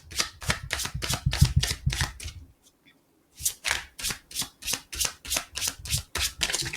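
Tarot cards are riffled and shuffled by hand in rapid rhythmic bursts, close and crisp, with a brief pause midway before the quick flutters resume.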